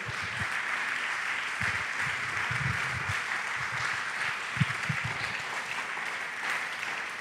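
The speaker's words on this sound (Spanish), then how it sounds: "Vamos a dar ese aplauso al Señor fuerte." A church congregation claps loudly and steadily for several seconds, with a bright sustained wash of applause and a few heavier beats underneath.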